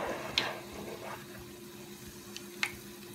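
Spoonfuls of cornbread batter frying in hot oil make a quiet, steady sizzle broken by a few sharp pops and crackles.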